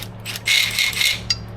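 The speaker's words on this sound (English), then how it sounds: "So step one is going to be to loosen up all these bolts." Ratcheting wrench clicks as pump bolts are loosened on a non-running boat engine, a close burst of rapid metallic ratchet ticks, a pause, then a shorter click, with no speech.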